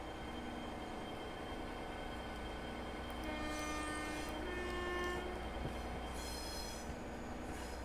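A diesel train in the Train Sim World 6 video game rumbles along steadily with a sustained engine drone, plus thin squealing wheel tones and brief horn-like notes in the middle.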